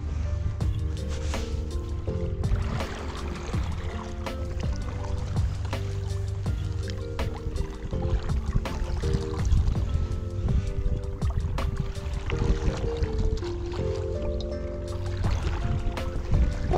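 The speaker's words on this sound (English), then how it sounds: "So as we're moving, just kind of casually paddling, and now we're gonna just do a little stroke around." Paddle strokes dip and pull through water beside an iRocker inflatable paddle board, a steady sloshing and splashing rhythm with low rumbling wind or board noise throughout, close and moderately loud.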